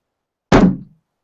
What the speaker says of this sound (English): Just about to bang the drum